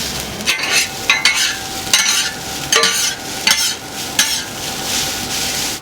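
Seto yakisoba noodles are stir-fried on a hot griddle at a busy Aichi street-food shop, sizzling continuously as spatulas scrape and toss the noodles in a regular rhythm of sharp strokes, with no talking.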